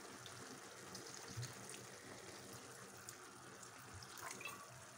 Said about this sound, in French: Je vais ajouter un peu d'eau, un demi-verre d'eau